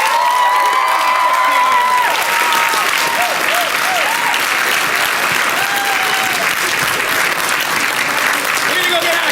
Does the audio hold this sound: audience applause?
yes